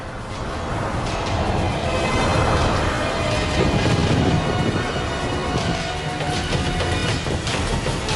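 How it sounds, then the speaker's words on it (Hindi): A thunderstorm roars in a dramatic film scene, with sustained heavy rumbling and crashing thunder over rain, loud and dense throughout with no talking. "इस तूफान में स्पेसशिप उड़ाना बहुत मुश्किल है।"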